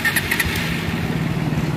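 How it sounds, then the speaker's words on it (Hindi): A 2017 Honda CB Hornet 160R motorcycle engine just started, running with a steady low rumble and a few light high-pitched ticks near the start. "ये देखो फ्रेंड्स बाइक स्टार्ट हो गई है"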